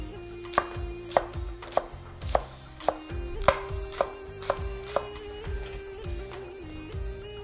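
Knife chopping leek on a cutting board, a steady series of about a dozen crisp, evenly spaced chops heard up close over a low background hum.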